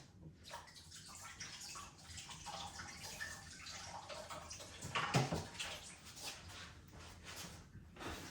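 A blender jug is rinsed under running tap water, giving a steady wash of splashing with a louder gush near the middle, alone with no talk.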